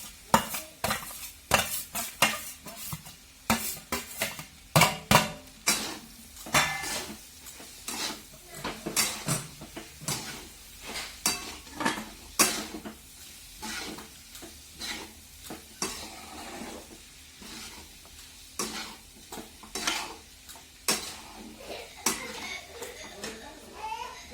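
A spoon repeatedly stirs sautéed onion into a vegetable dish in a pan, with uneven bursts of scraping and clinking against the metal over a soft sizzle and faint voices in the background.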